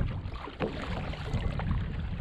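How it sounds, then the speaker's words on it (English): A breeze rushes steadily over a fishing kayak on the water, producing a continuous low, blustery wind noise close to the microphone, with no voices. "Yeah, just hit me then, there's a breeze."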